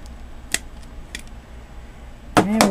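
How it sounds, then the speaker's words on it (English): Crimping tool cutting Ethernet cable, sharp close snips at the start and middle, then a louder final clack as the cable is severed. "cut the cable."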